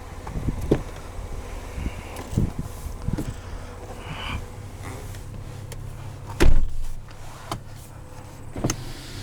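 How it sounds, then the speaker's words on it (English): Power windows on a 2021 GMC Canyon Elevation pickup whir up and down in short motor runs, with a few clunks and one louder thud near the end, recorded close inside the cab with no talking. "Automatic windows."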